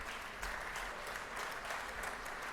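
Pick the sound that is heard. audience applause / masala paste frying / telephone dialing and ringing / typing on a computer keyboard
audience applause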